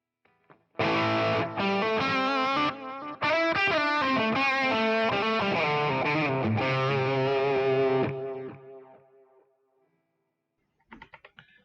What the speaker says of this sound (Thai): สังเกตดูก็จะมีเสียงดีเลย์